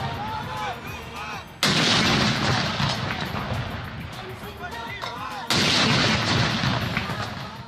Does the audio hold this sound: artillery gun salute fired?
yes